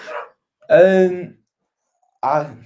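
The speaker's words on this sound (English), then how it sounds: "the dog is barking" A dog barks in loud, separate bursts: one short bark, then a longer drawn-out bark, then another after a gap, near and clear with silence between.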